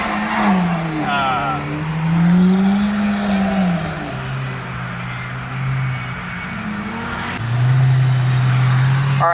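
A twin turbo Lamborghini Aventador SVJ V12 engine revs and accelerates loudly at an exotic car show, with rising and falling drone, shifts, and a sustained close roar, with voices underneath.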